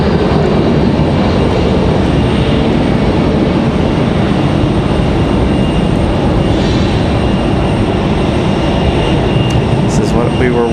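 An Airbus A319 departing Raleigh-Durham International Airport, a continuous loud jet roar sustained across the whole stretch, with no voices standing out over it.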